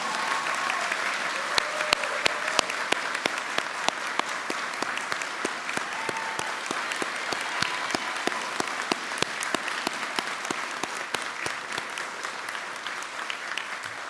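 Sustained applause from an audience at a military cadet commissioning ceremony, dense steady clapping with many sharp individual claps, moderately loud and continuous throughout with no talking.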